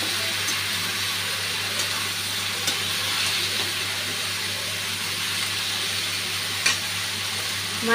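Mixed vegetables tipped into a well-fried spice paste for a hilsa fish head curry, frying with a steady broad sizzle and occasional stirring knocks against the pan, no speech.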